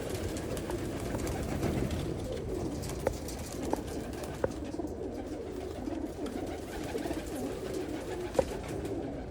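Pigeons cooing in a crowded loft with a low, continuous murmur of many birds, plus occasional sharp clicks and flutters.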